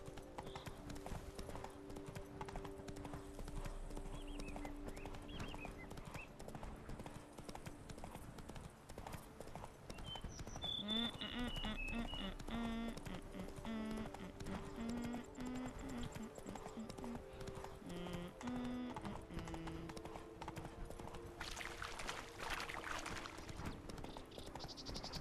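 Roach the horse in The Witcher 3, hooves clip-clopping in an even walking rhythm for the whole stretch, quiet and distant, with faint chirps and ambient game sounds around them.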